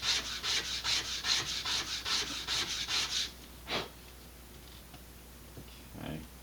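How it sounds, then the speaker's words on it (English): Rhythmic sanding strokes on the root edge of a balsa fin from an Estes Sentinel model rocket, about ten steady back-and-forth rubs, close and clear, then a few isolated scrapes after a pause. "I'm going to sand the root edge, part that gets glued to the rocket. Sand that flat."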